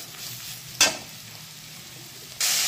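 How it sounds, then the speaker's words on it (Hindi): Chili masala frying on a low flame, a quiet steady sizzle with a brief sharp stir or scrape partway through and a louder burst of hiss near the end. "इसे हमें 1 से 2 मिनट के लिए लो फ्लेम पर फ्राई करेंगे।"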